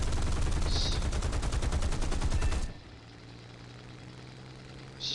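Rapid machine-gun fire from an aircraft in War Thunder rattles in a dense, loud burst for about two and a half seconds, then cuts off to a low engine drone, with a brief faint chirp at the very end.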